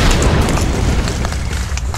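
A toy grenade bursting during an outdoor gel ball blaster game, a loud close boom with a rumbling low tail lasting about two seconds.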